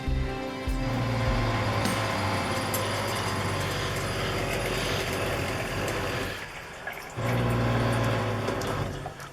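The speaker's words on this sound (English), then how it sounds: "I turn on some water and the pump goes." Water pump in an A-frame popup trailer running steadily, with a low mechanical hum and rushing water flow that pauses briefly near the end and then resumes at full strength.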